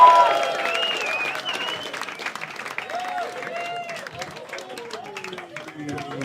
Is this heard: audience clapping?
yes